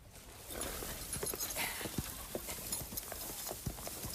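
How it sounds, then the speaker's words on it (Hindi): Horses' hooves clip-clop in an uneven walking rhythm at moderate distance, with soft knocks over a faint outdoor background and no clear talking. "ये चैन से आए हुए बेहतरीन घोड़े हैं।"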